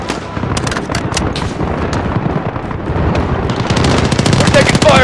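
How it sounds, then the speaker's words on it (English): Sustained automatic gunfire and bursts of shots crackle through a chaotic firefight at a compound residence in Call of Duty: Modern Warfare, loud and dense throughout, with shouted squad voices mixed into the din. "We're taking fire from the residence!"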